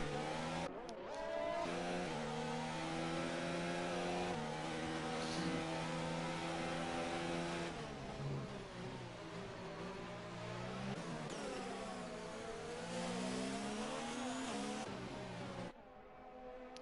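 Race car engines roar continuously in a sim racing game as a car overtakes for the lead, with layered high-revving tones rising and falling and shifting pitch as the cars jostle closely, steady and loud throughout.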